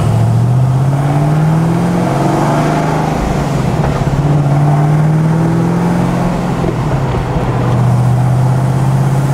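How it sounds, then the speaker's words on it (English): A car engine on a tuning session holds a steady, loud drone with slow rises and dips in pitch as the idle hangs and the revs swell, close and continuous. "Idle's hanging a little bit."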